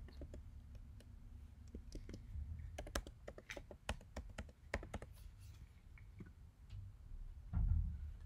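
Someone types a password on a computer keyboard with scattered, irregular key clicks, faint and close, over a low background hum.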